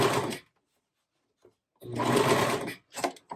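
A serger sewing machine stitches sweatshirt fabric in short separate bursts, a fast mechanical whirring that stops between runs, fairly close and with no voices.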